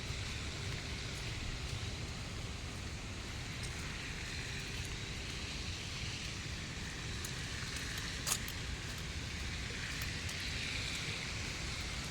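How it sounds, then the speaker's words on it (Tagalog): Light drizzle falls outdoors among trees on a cold evening in Taiwan, a soft steady hiss of rain that stays even and moderately quiet throughout, with faint distant traffic beneath. "ambon pa rin. Ang lamig."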